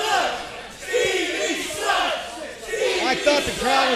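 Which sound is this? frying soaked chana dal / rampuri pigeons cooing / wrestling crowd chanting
wrestling crowd chanting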